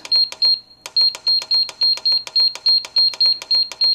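Control panel of a Presto indoor electric smoker beeping as its timer is set: a quick, steady run of short, bright electronic beeps, close and loud, with one brief pause near the start and no talking.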